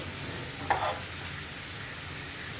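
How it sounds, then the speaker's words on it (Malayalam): Onions sizzling in a pan for an Angamaly mango curry, a soft steady frying hiss with a brief clink of stirring near the start, fairly quiet and close. "ഉള്ളിയുടെ കളറൊന്ന് മാറി വരുന്നത് വരെ നമുക്കൊന്ന് ഇളക്കി കൊടുക്കാം"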